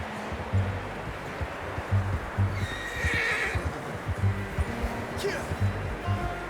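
Horse hooves clip-clop in a steady rhythm in the video game Red Dead Redemption 2, with a loud whinny partway through, amid outdoor ambience and rustling.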